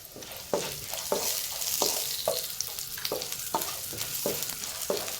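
Urad dal and curry leaves fry in hot oil for cabbage thoran, making a steady close sizzle broken by about eight evenly spaced stirring scrapes, with no voices.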